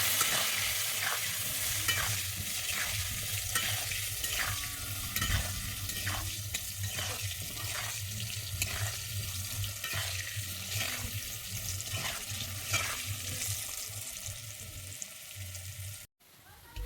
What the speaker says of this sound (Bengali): আমি আলুটাকে ভালোভাবে লাল করে ভেজে নেব